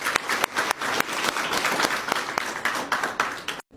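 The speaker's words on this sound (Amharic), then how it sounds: "ለቦራ ጭብጨባ" Crowd applause for Bora, a shoeshine business, sounds as sustained clapping from many hands, fairly loud and dense, stopping abruptly at the end.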